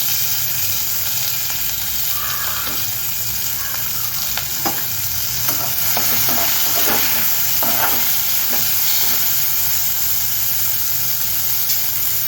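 Chopped onions fry in hot oil for a mutton kola urundai kulambu, producing a loud, continuous sizzle close up, with repeated clattering stirring strokes throughout.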